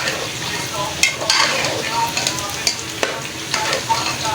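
Tomatoes are stirred into mutton frying in a pot for an okra stew, with a steady sizzle and close, repeated scraping and clattering strokes of the spoon.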